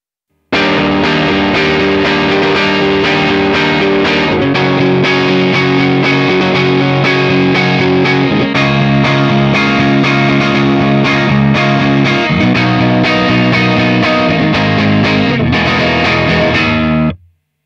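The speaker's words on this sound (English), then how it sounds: "let's first take a listen to a low gain tone through a few of the different cab sizes" Low-gain electric guitar with mild overdrive through a V30 speaker cabinet plays sustained chords and riffs, full and warm, loud and continuous for about sixteen seconds before stopping.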